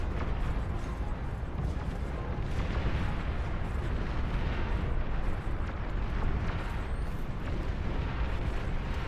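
Units exploding in Beyond All Reason, a dense continuous roar of overlapping blasts and rumbling booms at a steady loud level for the whole stretch, with no voices.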